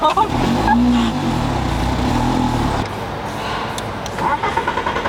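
A rally car engine idles roughly, then cuts out and stalls partway through, leaving a quieter rumble behind.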